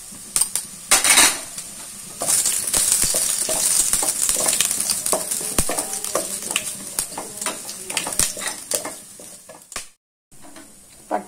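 A steady, bright sizzle of spices, cinnamon and bay leaf, hitting hot ghee fills the scene, with clinks and scrapes of a metal pan and utensil over it.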